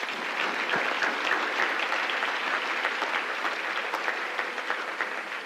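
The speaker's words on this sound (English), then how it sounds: "Please give her another round of applause." Steady applause from an audience at a women in leadership awards event, a dense, even wash of many hands clapping throughout, with no voices over it.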